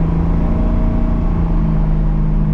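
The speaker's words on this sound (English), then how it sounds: "The engine sounds super healthy." Replacement engine in a Firebird running at a steady idle nearby, a constant loud low drone with a faint higher hum riding on top, unchanging throughout.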